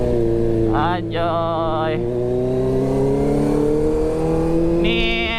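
A Kawasaki ZX25R motorcycle revs hard at full throttle, its loud, continuous high-pitched engine note climbing and holding steady, with a short exclamation from a rider partway through.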